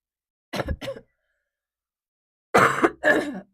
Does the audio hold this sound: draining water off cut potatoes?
no